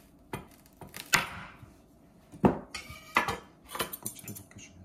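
A carrot is peeled in a home kitchen: scattered close scraping strokes and light clinks of a tool, uneven in rhythm, with short quiet gaps between them.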